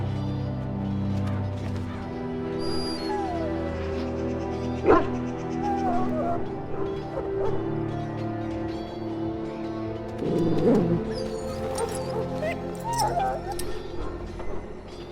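Dog barking and whimpering in the fantasy role-playing video game Dragon Age Origins, a few sharp barks rising over a dense bed of game music and ambience, with a louder cluster near the middle.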